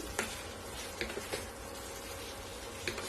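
Rava paniyaram tossed and stirred in hot oil in a pan give a faint, steady sizzle, broken by a few soft clicks of the spoon against the pan.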